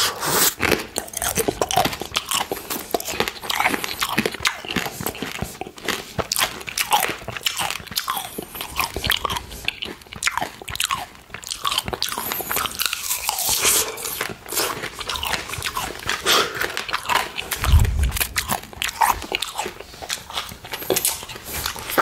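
Crunchy tanghulu, candied apple and mandarin orange, is bitten and chewed up close, with sharp repeated crackles of the sugar shell and wet chewing in a continuous run.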